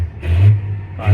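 A tractor engine on the road revs briefly, a low mid-pitched roar rising then easing off over about a second, close and fairly loud.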